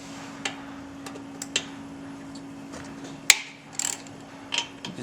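An 8mm Allen bit on a ratchet breaks loose the front brake caliper mounting bolts on a Victory motorcycle. A few sharp, close clicks and snaps come at irregular intervals over a low steady hum, with no talking.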